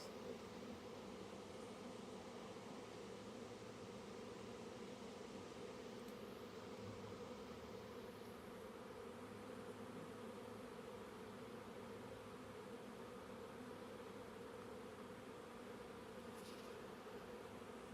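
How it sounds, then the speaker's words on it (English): A honeybee swarm circling a hive makes a dense, steady buzz for the whole stretch, faint and even without breaks. No voices can be heard. "It's a bee tornado."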